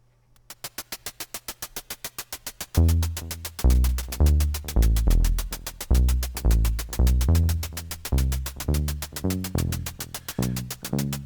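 A 921 modular synth oscillator is triggered by a 960 sequencer through its clamping-section V-trig input. A thin, fast pulse starts alone, then a loud, steady, plucky rhythmic sequence of repeated tones with shifting pitches comes in and runs throughout.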